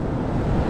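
Strong wind buffets the microphone on a seaside fishing trip, a loud, broad rumbling roar lasting under a second with no talk.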